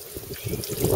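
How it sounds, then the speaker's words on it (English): Small amount of water poured outdoors on a windy day while tending hibiscus cuttings, a short soft trickle and splash lasting about a second, close by. "Get a little bit of water."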